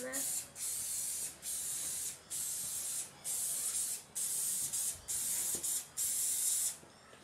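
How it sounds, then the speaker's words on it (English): Canola oil from a spray can mists onto a baking tray in about eight short hissing bursts with brief gaps between them, close and fairly quiet. "So I'm just going to oil this quickly."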